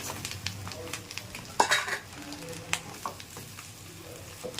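Noodles drop into a pan already holding fried eggs, onion and chili and are stir-fried, a soft sizzle with intermittent spatula scrapes and clatters, one louder knock early on, no voices.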